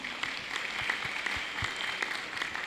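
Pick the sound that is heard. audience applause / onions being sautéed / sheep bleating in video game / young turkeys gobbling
audience applause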